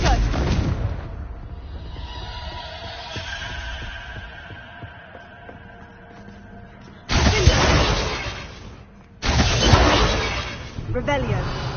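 Confringo blasting spell explosions in a video game, deep booming blasts arriving in a couple of loud bursts after a stretch of rumbling low effects.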